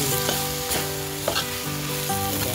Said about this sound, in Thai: ผัดก่อนนะคะ แล้วจะใส่ปลาดุกที่หลังนะคะ